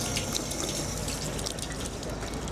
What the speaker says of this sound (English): There's a couple of fountains over here and I heard the water is very good.